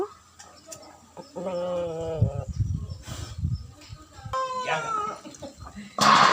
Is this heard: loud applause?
no